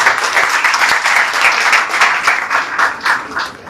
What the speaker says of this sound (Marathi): सो एकदा सरांसाठी जोरदार टाळ्या म्हणून जाऊ दे.